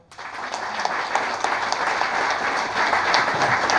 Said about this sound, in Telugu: అయ్యో తప్పట్లు కొట్టడానికి కూడా మొహమాట